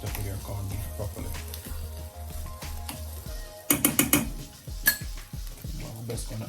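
Corned beef sizzles in a frying pan while a metal utensil scrapes and clinks against it, with a few sharper clatters partway through.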